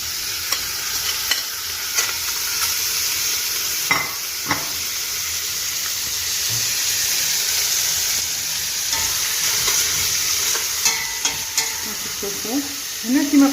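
Tripe fries in oil in a cocotte for Algerian bekbouka, giving a constant loud, close sizzle with scattered spatters and light stirring clatter, a few knocks at the very end.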